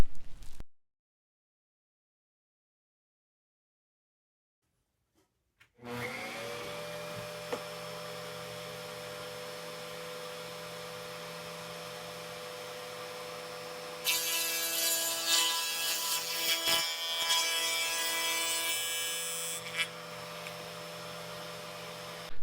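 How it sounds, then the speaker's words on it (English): A power tool mills a damaged poplar piano bench leg down flat, a steady motor whine with hum running after a quiet start and growing harsher midway as the cutter bites the wood, close and alone. "what I need to do is mill this down flat, put in a replacement piece"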